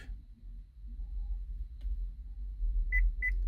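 Two short, high electronic beeps chirp in quick succession near the end as a 2014 GMC Acadia remote key is programmed, over a low, steady background hum.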